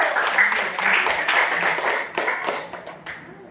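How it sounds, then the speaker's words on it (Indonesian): Classroom applause as a small group of students, Fari, Sandi and Raffi, come forward; steady, moderately loud clapping from a modest group runs the whole time, fading slightly toward the end. "Kasih tepuk tangan dulu"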